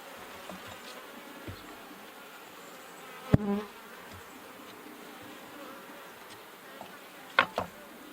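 Honeybees hum steadily and faintly inside an open hive being inspected, a low continuous drone with a couple of sharp clicks and knocks of hive tools and frames breaking through.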